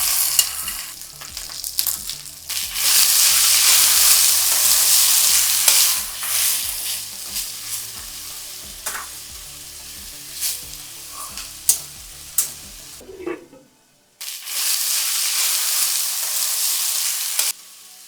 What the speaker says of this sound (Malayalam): കടുക് താളിച്ച് മാറ്റിവെച്ച കപ്പയും ആവശ്യത്തിന് ഉപ്പും ചേർത്ത് ഇളക്കി